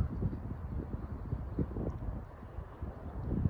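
Wind blowing across North Domingo Baca Open Park in Albuquerque, New Mexico, on a cloudy evening, heard as low rumbling gusts buffeting the microphone, steady and fairly close.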